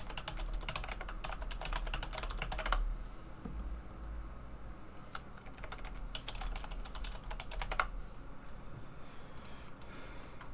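Rapid bursts of keystrokes on a computer keyboard during network lab configuration, close and fairly quiet, with short pauses between flurries of typing.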